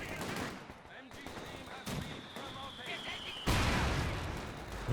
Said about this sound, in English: We've got mortars versus buildings.